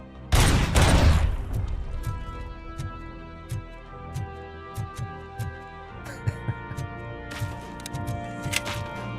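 Gunfire in the video game Robocop: Rogue City opens with a loud, heavy burst of rapid shots, followed by a string of scattered, sharper single shots over a low humming game background.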